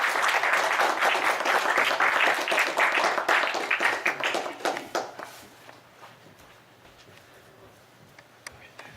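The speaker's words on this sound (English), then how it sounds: "Please give a round of applause." Audience applause for a retired principal of Madras Sanskrit College at a talk in Rockville, MD: dense, loud clapping for about five seconds that thins out into a few scattered claps and quiet room noise.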